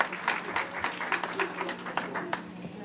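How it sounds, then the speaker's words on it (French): Gala audience giving a brief round of applause, a moderately faint patter of many hands with scattered distinct claps over low room murmur. "je vous demande, mesdames et messieurs, de l'applaudir aussi"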